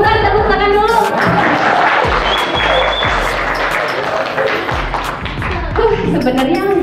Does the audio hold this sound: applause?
yes